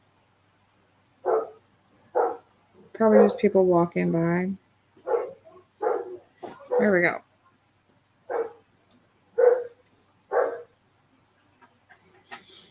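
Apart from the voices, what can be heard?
dog barking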